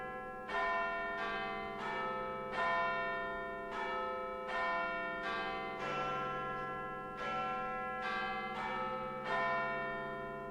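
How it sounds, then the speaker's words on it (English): Church bells peal at victory in the video game Fallout London, a steady sequence of resonant, overlapping strikes, roughly one every second, each ringing on and decaying into the next, with no speech. "The bells ring in the background as the screen fades to black."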